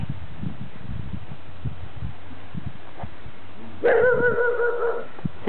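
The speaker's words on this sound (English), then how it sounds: "It's the neighbor's dog." A neighbor's dog barks in the distance outdoors on a snowy day, faint repeated barks, and then a nearer tonal whine or yelp rises briefly near the end.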